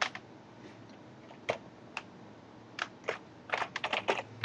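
A faulty computer keyboard being typed on: sparse, irregular clicking keystrokes, a few isolated taps early, then a quicker cluster of presses near the end, close and fairly quiet, with no talking.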